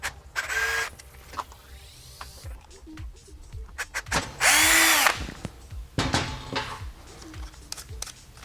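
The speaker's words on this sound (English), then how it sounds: "I'm going to start drilling now" A 6mm bit in a power drill bores holes through fender eliminator material while a Honda CBR 600 RR (2007-2012) is worked on, with several loud whirring bursts of varying length separated by pauses and small handling clatter.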